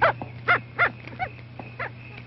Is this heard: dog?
yes